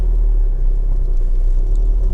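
Honda Civic 2.2 i-DTEC EX five-door diesel on a road test, a steady low engine drone and tyre rumble heard from inside the cabin, constant and fairly loud throughout with no talking.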